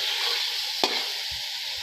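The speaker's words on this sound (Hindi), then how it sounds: "अदरक लहसुन को थोड़ा सा भून लेने के बाद 2 टमाटर हैं बड़े साइज़ के, ये शामिल कर लेंगे।" Two large tomatoes go into a pan of frying ginger and garlic, giving a steady, fairly quiet sizzle with a brief stirring clack partway through and no voices.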